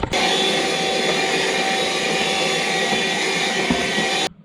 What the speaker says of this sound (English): I'm going to vacuum it out with a Rover vacuum cleaner